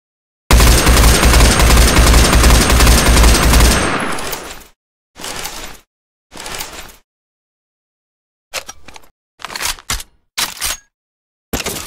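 Sustained burst of assault rifle fire in Left 4 Dead 2, loud and continuous for about three seconds, then several short separate bursts with silent gaps between them.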